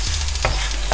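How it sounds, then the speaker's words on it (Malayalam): Scrambled eggs stirred in a hot pan, Kerala-style mutta kottal, with a steady low sizzle and two quick scraping strokes of the spatula against the pan, close and alone. "അപ്പോൾ ഇങ്ങനെ നമുക്കിനി ഇളക്കി കൊടുക്കാം."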